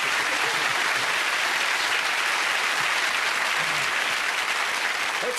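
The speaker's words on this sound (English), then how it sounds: "Okay, give them a nice round of applause." A television studio audience applauds a pair of charity contestants at a 1994 Christmas game show, with sustained even clapping filling the room from start to finish and no speech over it.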